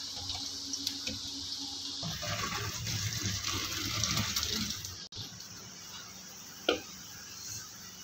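Water poured off boiled macaroni, potatoes and peas while draining them in a home kitchen: a broad, steady splashing rush for several seconds, then stopping, with a few faint clinks afterward.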